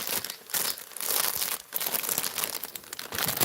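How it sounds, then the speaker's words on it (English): Plastic packaging crinkles and rustles as items are put away into a bag, a close, continuous irregular crackling with no talk. "sorry for this crinkling"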